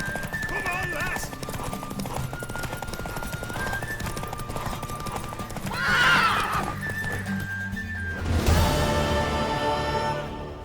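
Horse hooves clip-clop at a gallop with a loud neigh near the end, from a mare race in The Witcher 3 video game on PS5, under music and game sound with some voices.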